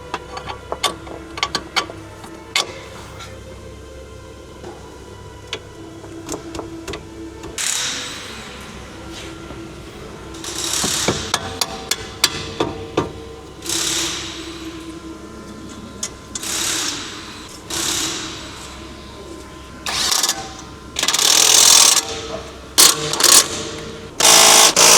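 An old non-stock part is ground out during a coilover install on a Lexus IS200, with repeated harsh mechanical bursts of grinding between quieter pauses and clicks.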